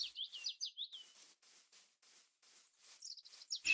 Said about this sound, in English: It very much sounds like I expect an owl to sound.